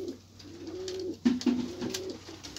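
Pigeons cooing close by in a bird keeper's loft, several low, throaty coos overlapping in soft rhythmic bursts.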